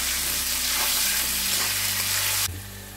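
Potatoes and onions fry in oil in a pan, a loud, close, continuous sizzle that drops abruptly in intensity near the end.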